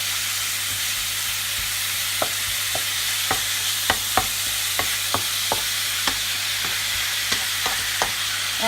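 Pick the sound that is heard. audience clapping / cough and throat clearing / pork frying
pork frying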